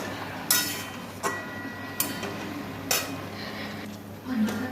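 Boiled cabbage strained from a metal pot, with several sharp clanks and clinks of cookware at uneven intervals and a soft watery rustle between them, close and fairly loud.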